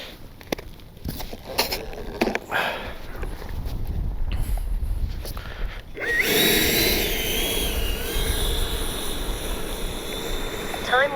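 An E-Flite 70mm Viper RC jet's ducted-fan motor spooling up to a loud, steady high-pitched whine partway through, preceded by clicks, handling noise and low rumble outdoors, with a voice briefly speaking early on.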